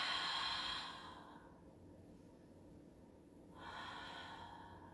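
A long, soft exhale through the nose fades over a couple of seconds as a person breathes out during a yoga twist, with a breathy hiss returning at the end, close and quiet.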